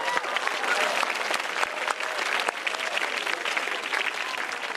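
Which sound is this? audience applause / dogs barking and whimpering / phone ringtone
audience applause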